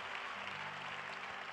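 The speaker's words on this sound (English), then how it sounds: "I dare you to give God a hand clap of praise" Church congregation clapping their hands in praise during an anniversary service, a dense, even burst of applause, faint and distant, lasting a moment.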